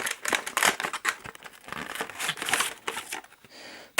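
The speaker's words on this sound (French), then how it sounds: "Donc, on va le déballer." A packaged clip-on camera lens being unwrapped, with close, loud crinkling and rustling of plastic and packaging in irregular bursts throughout, and no talk.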